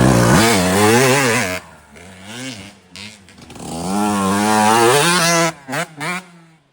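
A Honda CR 125 two-stroke dirt bike is ridden on a mountaintop, its engine loud and close, revving up and down in long rising and falling pitches before cutting to short bursts.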